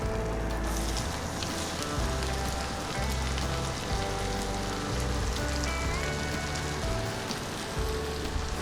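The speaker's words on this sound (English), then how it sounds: "We're gonna add the shallots, we're gonna saute them." Shallots sautéing in a steak pan: a steady, soft crackling sizzle with fine popping runs evenly throughout, with no voices over it.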